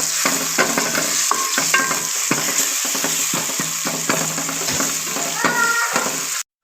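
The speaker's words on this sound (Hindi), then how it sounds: "और इसको अच्छी तरह से मिक्स कर देंगे" Browned onion with a spoon of ginger-garlic paste stirred and frying in a pan for a potato-egg curry, with steady sizzling and repeated scraping strokes of a spoon against the pan, close and continuous.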